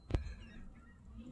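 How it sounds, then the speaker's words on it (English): Seagulls being fed dog food in a parking lot: one short, loud honking call close by, then faint outdoor background. "So yeah, just feeding the birds some dog food."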